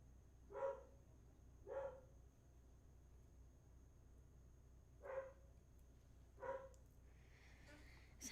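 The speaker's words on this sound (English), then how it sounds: "And there goes my dog barking again." A pet dog named Duke barks in four separate short bursts from across a room, two close together early and two more a few seconds later, over a low steady hum with no talking.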